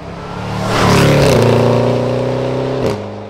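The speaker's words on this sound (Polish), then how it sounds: "Oprócz kompresora, który oczywiście jest pod maską i niesamowicie dodaje tego dźwięku jęku kota." A supercharged Jaguar F-Pace SVR engine revs up loudly, its pitch climbing and holding before easing off, with a whining supercharger and exhaust note close by.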